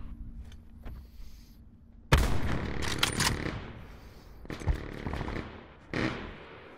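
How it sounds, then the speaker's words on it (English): Automatic bursts from a sentry gun in a shooter game, starting sharply after a quieter stretch, then more separate loud volleys rattling out alone. "He's got a sentry gun too."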